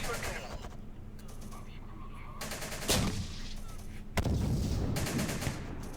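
Bursts of rapid gunfire and heavier cannon blasts crackle and boom in a Syrian Warfare battle for Aleppo, dense and continuous with sharp loud reports near the middle and end.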